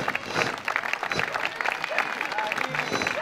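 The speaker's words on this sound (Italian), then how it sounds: "vorrei un applauso per i nostri giovani" Audience applause at a historical groups presentation during the Festa delle Idi di Maggio in Oglianico, a crowd clapping fairly steadily, with some voices and crowd noise mixed in.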